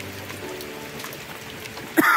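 Steady rain falling on a farm in the countryside, a soft continuous hiss with faint scattered drops, ending in a brief louder knock.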